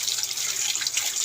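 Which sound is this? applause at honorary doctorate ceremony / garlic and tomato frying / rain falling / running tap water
running tap water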